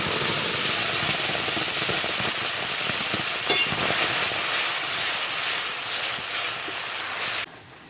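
Boiled tomato puree going into a hot pan for chutney, a loud, continuous sizzling hiss that holds steady for about seven seconds and then cuts off sharply.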